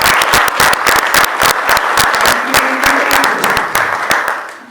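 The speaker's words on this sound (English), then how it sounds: "let's give Steph another round of applause" Audience at an in-person lecture on ancient Southwestern ball courts gives a loud, close round of applause, dense clapping that carries steadily for several seconds and fades slightly at the end.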